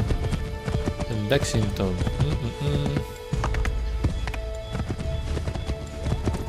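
A horse gallops in Assassin's Creed 3, rapid hoof clip-clops running steadily with a brief neigh, under game music while someone talks over the gameplay.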